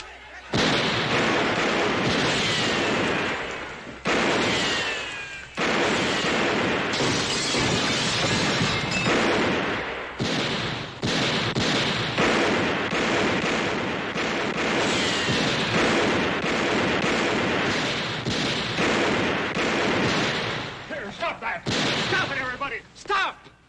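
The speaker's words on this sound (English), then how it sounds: "Let's put a few shots over their heads" Gunshots fired over the heads of approaching riders in a classic Western TV drama, loud repeated cracks and blasts across a long stretch, mixed with shouting and hoofbeat-like commotion.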